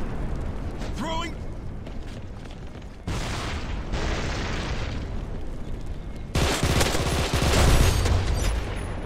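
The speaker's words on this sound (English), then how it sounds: "Throwing frag." Frag grenade explosions and gunfire in the shooter game CrossfireX. Several bursts and booms go off at moderate volume, spread through a busy mix of in-game effects and voice callouts.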